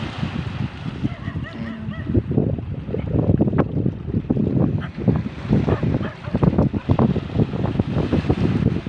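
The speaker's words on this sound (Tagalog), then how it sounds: "Lakas ng hangin." Strong seaside wind roars and buffets the microphone in continuous rough gusts, with faint water or surf beneath and a brief murmur of voices.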